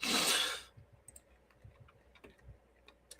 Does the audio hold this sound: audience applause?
no